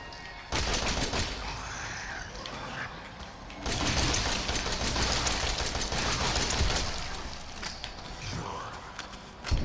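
Gunfire in the horror video game Resident Evil 7 rattles in dense, sustained bursts over about ten seconds, loud and close, with brief gaps and mechanical clatter mixed in.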